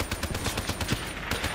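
Rapid gunfire in Call of Duty: Black Ops III, bursts of automatic shots in a fast irregular rhythm, loud and close, continuing without a pause.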